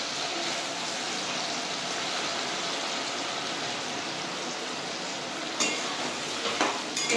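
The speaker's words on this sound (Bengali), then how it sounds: "এগুলো আমি হালকা করে ভেজে নেব।" Diced capsicum and onion frying lightly in hot oil give a steady, even sizzle throughout, with a few faint utensil clinks toward the end.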